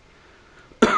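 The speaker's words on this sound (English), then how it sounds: "Plus I've been coughing." A single sharp cough bursts out at the very end after near silence, close and loud.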